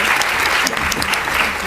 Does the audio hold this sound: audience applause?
yes